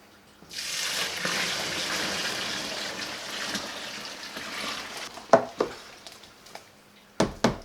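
Syrup poured into a stainless steel bucket holding corn for a sour mash, a thick liquid stream gurgling for several seconds, then a few sharp clanks and knocks.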